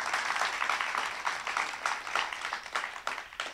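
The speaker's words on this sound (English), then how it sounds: "So big round of applause right now for the students" A crowd at a Poetry Out Loud student recitation event in Monterey County applauds the students, producing a steady, dense wash of clapping that holds at even loudness throughout with no talking over it.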